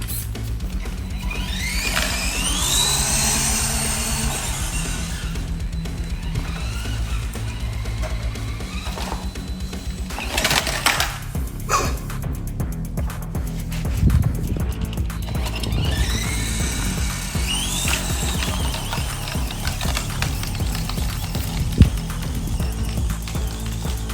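A mini RC monster truck drives off-road across a backyard, its small electric motor whining up and down in bursts, with rattling, clattering suspension and bumps from the rough ground and a few sharp knocks.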